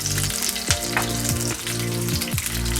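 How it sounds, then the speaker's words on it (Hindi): Cumin seeds and green chili fry in two spoons of hot oil in a pan, a steady close sizzle broken by several sharp spatters and pops as they are stirred. "इसमें हम डालते हैं 2 चम्मच तेल। डालेंगे जीरे, हरी मिर्च। इसको चला देंगे।"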